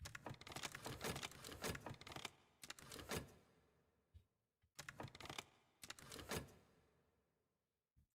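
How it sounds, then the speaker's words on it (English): Bursts of computer keyboard typing come in close, dense clusters separated by short pauses, with the clatter of keys pressed quickly and unevenly during a stream of Cultist Simulator gameplay. "Sorry about that, my keyboard was acting up."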